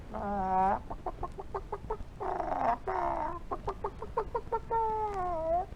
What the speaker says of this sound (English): Gulliver placed upon the captain's table a tiny basket containing a tiny chicken.